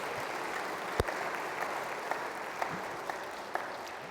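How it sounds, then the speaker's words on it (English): Steady applause from a congregation at Sunday Mass in a church fills the whole stretch, a dense patter of clapping with a few sharper individual claps standing out. "give yourselves a round of applause for coming out"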